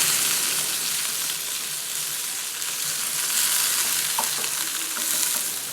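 Brinjal pieces frying in a pan while being stirred, a loud, dense, constant sizzle close up with occasional scraping, no talking.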